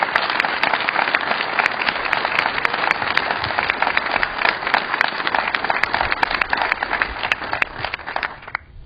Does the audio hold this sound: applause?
yes